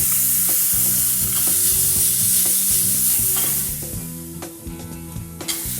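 Preserved radish stir-fried with garlic, chili and celery in a wok, a steady loud sizzle broken by repeated scraping strokes of the spatula, easing slightly toward the end.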